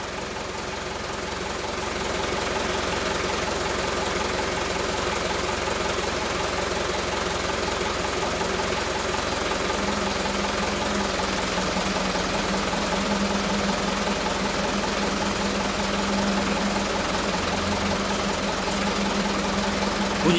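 A blower fan runs steadily with a rapid, mechanical clicking or knocking running through it. The fan sound is moderately loud and continuous, and a low hum joins in about halfway through.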